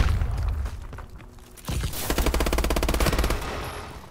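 Rapid machine gun fire in the video game Call of Duty, loud bursts of automatic shots with a sharp onset partway through, rattling on steadily to the end.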